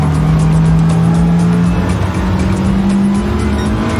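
Race cars in the Gran Turismo 7 game during a Nations Cup online race: loud, sustained engine drone with gear-shifting pitch changes and tire squeal as the cars brake into a corner together.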